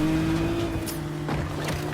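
A car drives in a video game, its engine a steady hum with a brief rev partway through, fairly close under the game's background sounds.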